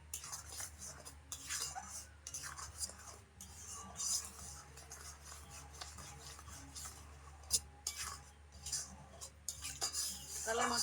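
A spoon clinks and scrapes against a pot while a boiling palm-fruit pulp mixture is stirred, light metallic taps recurring irregularly at a quiet level with occasional soft speech.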